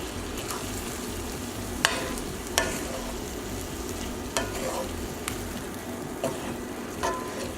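Ribeye steak burrito filling cooking in a pan on the stove, a continuous close sizzle and bubbling broken by a few sharp clacks of a utensil stirring.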